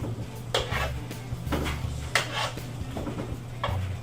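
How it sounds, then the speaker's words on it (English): Chops and sauce stirred in a pan on the stove, with several soft scraping and clinking strokes of a utensil against the pan over a steady low hum, close and moderately quiet. "Stir that sauce up a little bit."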